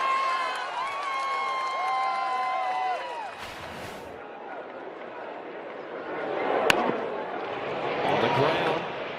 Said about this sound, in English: Our all-access fan cam will show you the reactions of a very excited crowd here at the ballpark.